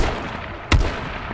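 A single sharp gunshot rings out in the zombie survival game H1Z1, one loud broadband crack over a steady background of game ambience.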